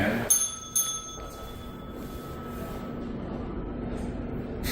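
A counter bell at an Alabama city hall rings twice in quick succession near the start, bright and sharp, then its tone fades away under room noise and low murmuring voices.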